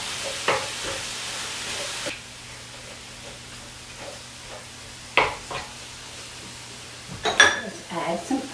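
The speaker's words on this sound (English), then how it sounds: "We start with 1 pound of hamburger and we fry it up." A pound of hamburger meat fries in a pan with a low sizzle, broken by sharp clinks and scrapes of a utensil stirring against the metal.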